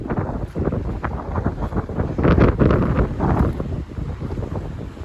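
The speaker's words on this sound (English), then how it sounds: "it's so windy and the waves are so big" Strong gusting wind buffets the microphone at Black Point's rocky shore in Narragansett, Rhode Island, with big ocean waves crashing beneath as a loud, continuous roar.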